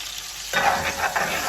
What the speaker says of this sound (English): just frying up my sausage and plantain before I start adding in the other ingredients